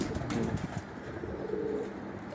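Pigeons at a Lahore pigeon-flying tournament coo in low, rolling murmurs, several birds overlapping steadily throughout at close range with a busy background of ambient noise.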